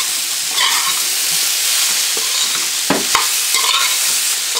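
Chicken stir-fry with cabbage and broccoli sizzling in a pan while being stirred, a constant loud frying hiss broken by several clattering utensil scrapes near the middle, close up and without talk.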